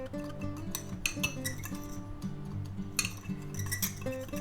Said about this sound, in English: mix up our seasonings. Give them a pretty good mix.